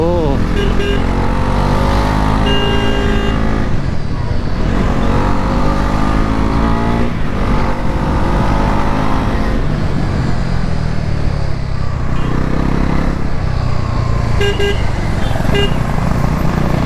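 A Bajaj Pulsar NS400Z motorcycle rides along a road, its engine droning steadily and loudly throughout amid surrounding traffic, with a horn toot and someone talking over it.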